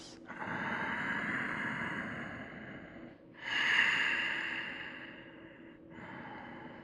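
Deep, drawn-out breathing during a yoga cobra pose: three long airy breaths, close and steady, each a few seconds long with brief pauses between, no talking.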